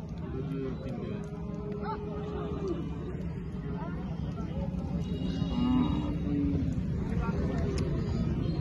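Cattle, including local native cows, low and moo at a busy livestock market, amid a crowd of voices with a steady murmur of people bargaining and talking close by.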